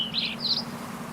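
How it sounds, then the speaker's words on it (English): Birds chirping outdoors in a quiet setting, two short, bright high chirps in quick succession over a low steady background hum, fairly faint and with no one talking. "and birds chirp with little difficulty"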